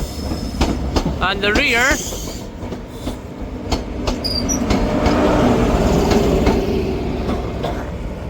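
ScotRail train from Aberdeen to Glasgow Queen Street rolling into Perth station, a steady loud rumble of wheels and engine with brief squeals, someone speaking briefly over it near the start.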